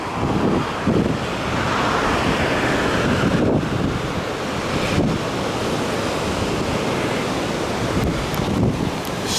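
Sea waves wash continuously onto a beach in Alanya, a loud rolling surf roar with wind buffeting the microphone.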